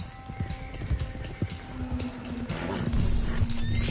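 Horses walk along a trail in Red Dead Redemption, hooves clip-clopping in a steady uneven rhythm, close and fairly loud over a low rumbling game soundscape, with the sound thickening toward the end.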